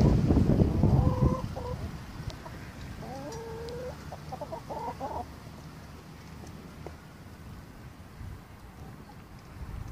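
Hens on a homestead cluck and murmur nearby in short, throaty phrases while fertilized eggs are set under them, loudest at first with some rustling, then settling into quieter scattered clucks.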